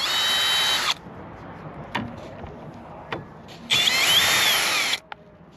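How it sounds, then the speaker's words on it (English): A power drill fitted with an extension and a T25 Torx bit backs screws out of a 2015 Toyota Prius during sunroof replacement: two loud, close whirring bursts with faint clicks and handling in between. "A little extension on our drill using a T25 Torx. We'll back these guys out like so."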